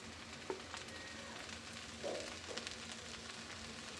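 Spices fry in a pan for vegetable khichdi, giving a faint, steady sizzle with a couple of soft clinks and stirring touches, quiet and close, with no talking.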